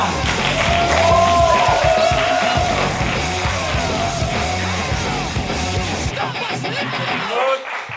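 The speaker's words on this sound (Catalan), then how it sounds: "rebem amb un fortíssim aplaudiment a Quim Vila" A studio audience roars for guest Quim Vila's entrance on the Catalan TV show Al Pou: loud, dense clapping and cheering with shouted yells throughout, easing slightly near the end.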